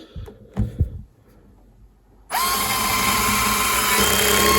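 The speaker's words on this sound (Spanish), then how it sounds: "Vamos a meter un primer tornillo." Bosch GO cordless screwdriver starts driving a screw: a few faint clicks and taps, a brief pause, then the motor whirs in abruptly and holds a steady, loud high-pitched whine to the end.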